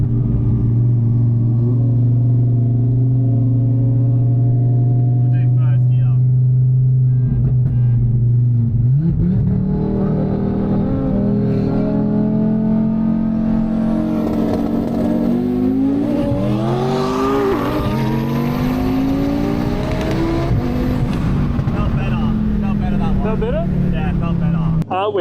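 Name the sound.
Audi RS3 racing an R35 GTR, engines accelerating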